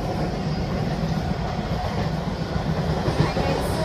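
Heard from inside a passenger train at night, a constant rumble and rhythmic clatter of the rails continues evenly and close by, with no break.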